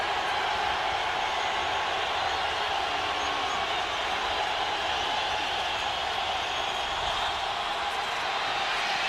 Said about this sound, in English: Crowd on its feet here in San Diego.